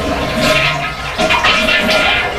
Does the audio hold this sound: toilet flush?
yes